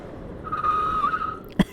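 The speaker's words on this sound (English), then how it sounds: "I'm about to lock the rear brake up." A rear tire squeals briefly as the brake locks on a small electric mini motorcycle. A short, thin screech sits under faint road noise and ends with a quick thump.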